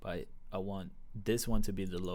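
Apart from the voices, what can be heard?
No everyday noises stand out.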